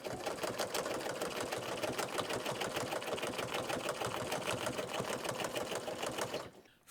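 A sewing machine stitches a wool applique, a fast, steady mechanical chatter of needle strokes running loud and close without pause, then stopping abruptly near the end.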